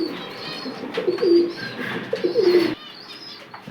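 Pigeons of an old bloodline, including a pair set up for mating, coo in a loft, with low throaty coos repeating close by, soft chirps and a brief flutter of wings.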